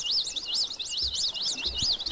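Birds calling by the sea, with a repeated rising-and-falling chirping call running steadily through the whole stretch over faint low rumble, continuous and moderately close.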